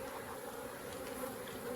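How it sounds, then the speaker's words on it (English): A swarm of honey bees buzzing during a hive cutout relocation, a steady dense drone that is faint and continuous, with no speech over it. "But as you can tell, I mean, it's a good number of bees."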